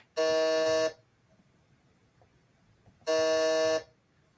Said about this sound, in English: We're going to do a buzzer check for everybody.